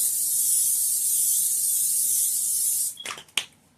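A steady hiss of cooking spray on a baking pan lasts about three seconds, then a couple of light metallic clatters follow.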